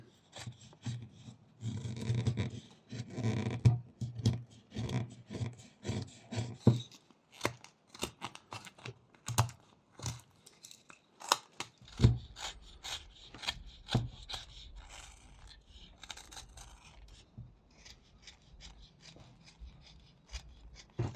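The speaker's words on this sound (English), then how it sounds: "you can make these very small cuts to try to smoothen out all of these different curvatures of the penguin" Small knife push cuts shaving a wooden penguin carving, a quiet close series of irregular scraping snicks and crisp slicing clicks, with clusters of strokes and short pauses between them.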